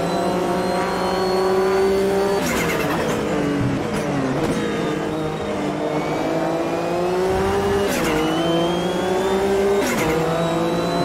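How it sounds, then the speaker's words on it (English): A race car in Automobilista 2 wheel-spins, its engine revving hard with rising and falling pitch sweeps as the tyres break loose, loud and close throughout. "Wheel spin. Hang on to it."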